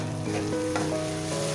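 Gobi manchurian with ketchup, onions and ginger garlic sizzles steadily in a frying pan over low heat while being stirred, a dense close frying hiss with no voices.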